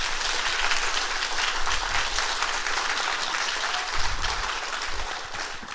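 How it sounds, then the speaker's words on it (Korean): A Korean audience at an excavation results presentation in Gyeongju claps for a newly appointed committee chairman: sustained, dense applause from a sizable crowd, loud and even, with a few low thumps and no talking. "큰 박수 한번 보내주십시오."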